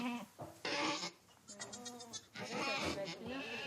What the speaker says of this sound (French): assistent aux premières mises bas de leurs chèvres dans leur nouvelle ferme